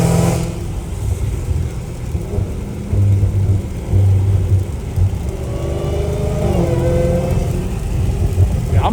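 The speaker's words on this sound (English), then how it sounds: "Oh, it's raining hard." Heavy rain drums steadily on a Dodge Challenger Hellcat Redeye as it drives along, a continuous wash of water noise over the low engine and road rumble, with a few brief engine swells partway through.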